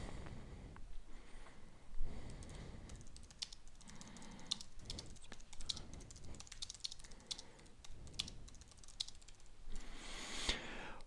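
Steady computer keyboard typing while writing a code comment, close and continuous with irregular bursts of key clicks and brief pauses, no talking.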